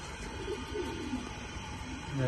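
Racing pigeons coo softly at a farm loft, low murmuring calls repeating through a steady, busy background with a voice nearby.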